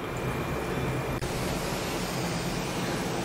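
Boondi batter sizzles in hot oil for laddu, a dense, steady crackling hiss that fills the whole stretch without a break.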